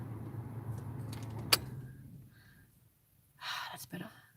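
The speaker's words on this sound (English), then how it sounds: "I could probably turn my car off now" A parked car's engine idles with a low, steady rumble, then cuts off and fades to near silence after about two seconds, followed by a sharp click and some later rustling close by.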